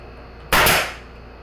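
A single sharp nail-gun shot drives a nail into a wooden beehive box, a loud close crack that decays quickly into quiet.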